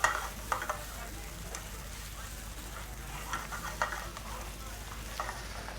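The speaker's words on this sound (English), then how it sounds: "So we need to cook all these ingredients for a couple of minutes until onion gets slightly soft and light brown in color." Onions and other ingredients fry in a pan in a restaurant kitchen, giving a steady, fairly quiet sizzle with occasional stirring scrapes and spatters, near and continuous without speech.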